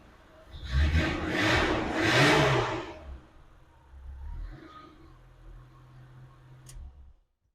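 A BMW E30 325 running a Rusefi standalone ECU cranks and fires, with a loud rev for a couple of seconds before settling into a low, steady idle rumble that cuts off abruptly. No one speaks.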